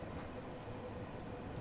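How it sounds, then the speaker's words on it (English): Rattly, steady rumble of a train in Train Sim World 2 as it slows, with the brakes ticking beneath a continuous low clatter, fairly quiet and close throughout. "You hear the ticking of the brakes"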